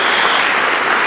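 Congregation applauding during a church service, a brief, steady wash of clapping that fills the whole moment.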